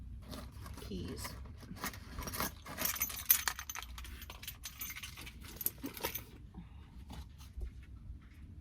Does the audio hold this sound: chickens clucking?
no